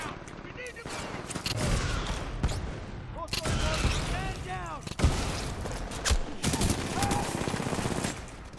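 Weapon fire in the Titanfall 2 game, an energy launcher shooting explosive balls of energy, with rapid bursts, sharp blasts and whizzing effects piling up in a loud, busy firefight that rises and falls over several seconds.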